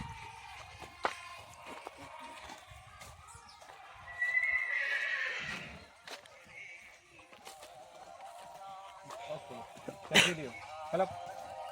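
A horse at a sale of North Indian horses gives a loud, drawn-out whinny midway, with scattered hoof clops and shuffles around it and a sharp snort near the end, while people talk nearby.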